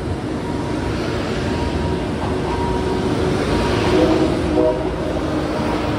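A steady, loud rumble of a train passing nearby in Thailand while traffic waits stopped for it fills the whole stretch, with faint tonal whines rising briefly toward the end.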